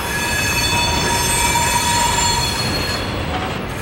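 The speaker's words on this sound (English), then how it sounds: "the yard switcher crew hooks on and pulls the whole thing over the yard hump" CSX freight train cars are pulled slowly over a rail yard hump by a switcher, with steady rumbling and sustained metallic wheel squeal ringing above it.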